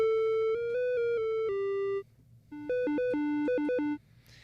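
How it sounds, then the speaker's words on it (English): A plain, bright single-oscillator, single-waveform tone from an EHX Mini Synthesizer plays a short stepwise melody, pausing briefly midway, then a quicker phrase of bouncing notes; clean and electronic, alone. "so your basic sound is just, you have one oscillator with one waveform"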